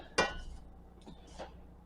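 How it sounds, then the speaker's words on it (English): A fork presses Crisco into flour in a bowl for apple dumpling dough, giving one sharp clink against the dish followed by a few fainter scrapes and taps, close and alone. "just going to cut it in until most of it is cut down and this starts to resemble like coarse crumbs"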